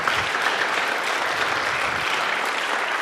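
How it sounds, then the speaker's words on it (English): Steady, dense applause from an audience, loud and continuous throughout, without any voices standing out. "So let's give them a round of applause."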